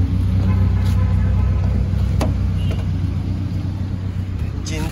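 A Toyota car engine idles with a steady low rumble throughout, close and continuous, with faint background noise and occasional clicks.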